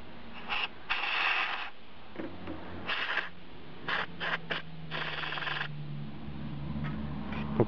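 Short bursts of compressed air blown into a PC power supply to clear dust, with the fan held still, sounding as several irregular sharp hissing blasts of varying length over a low steady hum.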